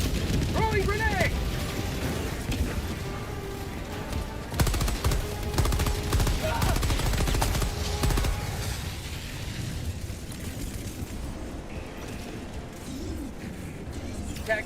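A grenade goes off with a heavy boom in Helldivers II, amid sustained automatic gunfire and more blasts. A loud, dense barrage runs throughout with game voice callouts mixed in, then thins toward the end.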